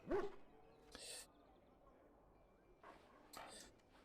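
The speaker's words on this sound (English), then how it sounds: "You're a good dog." Duncan's mabari dog in Dragon Age: Origins gives a few short, soft yips and whimpers spaced apart, quiet and close.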